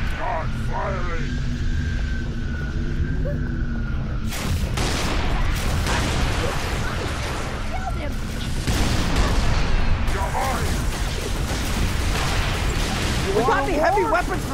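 A Halo 3: ODST battle against an enemy raid, with dense rumbling bursts of gunfire and explosions that run throughout and are layered with voices shouting orders.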